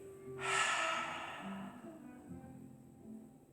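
A long audible breath in through the nose during a Pilates exercise on a fitball, swelling then fading, with faint background sound.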